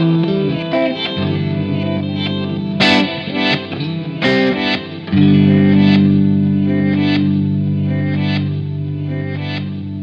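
Electric guitar played through a Danelectro reissue effects pedal with NOS circuitry, giving a loud distorted, chorused tone with reverb, sustained chords and sharp picked notes ringing out alone.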